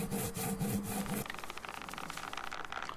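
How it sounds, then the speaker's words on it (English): A handsaw cuts through a doll in the True Fear video game, quick back-and-forth rasping strokes that run without a break and sound close. "I've sawed the doll in half."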